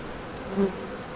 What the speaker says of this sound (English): I see a lot of bees.